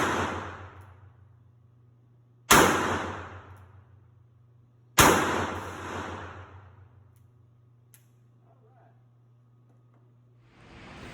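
Two loud, sharp gunshots about two and a half seconds apart from an Uberti-built 1851 Navy revolver in .45 Colt, each crack trailing off in a long echoing decay, followed by a quieter thump near the end.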